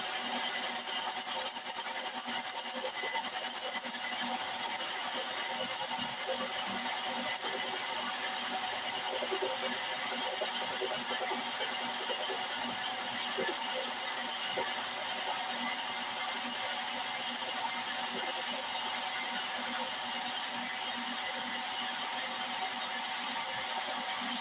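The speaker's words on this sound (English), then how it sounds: "I'm bringing in my cutter along that side to level that side off." A lathe cutter trims the burred edge of a titanium and antler ring, giving a steady, even machining whine and hum that stays level and close for the whole stretch with no voices.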